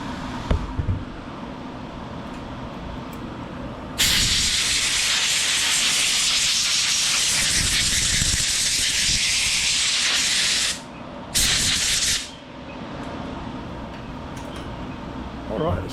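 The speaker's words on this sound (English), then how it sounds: "blow all the dust off this carburetor too" Compressed air blows dust off the carburetor of a Toro 21-inch push mower, model 21352: a loud, steady hiss for several seconds, then a couple of short bursts.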